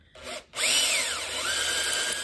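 A power drill with a 1/4 inch bit spins up and bores into metal during a Chevy S10 build in a weld shop, its loud whine rising after a brief stop and staying steady to the end.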